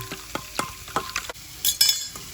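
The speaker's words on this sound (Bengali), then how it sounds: "সর্ষে বাটাটা একটু জলে গুলে নেব।" Mustard paste being stirred with a little water in a bowl holding prawns, heard as a series of close, soft scraping and clinking strokes at an irregular pace, a few seconds long, with no talk.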